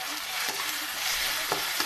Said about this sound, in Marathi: हलवून घेते मस्तपैकी.